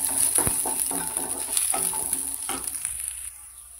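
Garlic and cumin seeds sizzle in hot oil in a home kitchen for dal. A steady frying hiss runs under several sharp metallic clinks from a stirring spoon, and the sound quiets toward the end.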